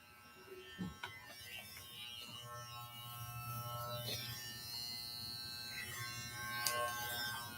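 Electric razor shaving a head at a St. Baldrick's fundraiser event, a steady low buzzing hum running through most of the clip with scattered faint background noise and small clicks.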